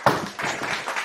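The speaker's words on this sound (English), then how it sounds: "Let's give him a hand clap right here." A small studio audience claps for a guest on a talk show, a brief scattered round of hand claps that starts sharply and then continues more softly with no speech over it.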